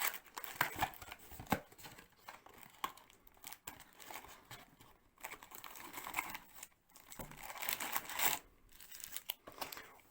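A retro Yu-Gi-Oh booster display box being opened by hand, with cardboard and plastic wrap crinkling, tearing and rustling in bursts up close, brief pauses between handling sounds, and no talking.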